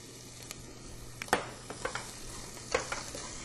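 Chopped onions go into a soup pot for Mexican meatball soup, giving a faint low sizzle with a few sharp stirring clinks and scrapes scattered over a few seconds.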